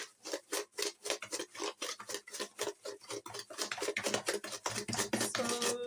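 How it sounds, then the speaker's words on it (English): Blue Band margarine and sugar being mixed in a bowl for a home-baked cake, rapid repeated scraping and rubbing strokes, close and continuous. "So we are mixing our blue band and sugar."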